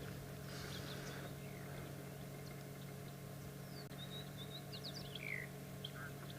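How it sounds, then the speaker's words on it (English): A white-bellied sunbird and a chin-spot batis call on a morning safari in the South African bush, scattered thin chirps and whistles rising over a low steady engine hum. "you can actually hear there's a white-bellied sunbird that's calling"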